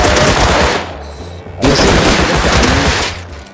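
Semi-automatic rifle fire in the video game Rust rings out in loud, close, rapid bursts, a sustained stretch of shots, a brief pause, then a second long volley, with no speech over it.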